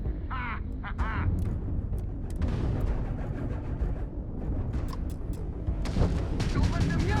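Weapons fire during a space battle in Starfield, steady rumbling salvos and sharp blasts running throughout under a busy mix, with brief voiced chirps and tones over the top.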